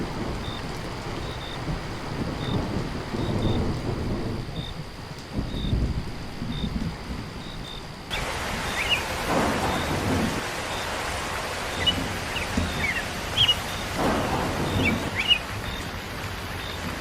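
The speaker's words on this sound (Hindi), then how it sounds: "इस बारिश और तूफान का मौसम लग रहा है" Cartoon thunderstorm with steady rain pouring down and rolling rumbles of thunder, faint bird chirps over the top, a heavier downpour taking over about halfway through, with no talking.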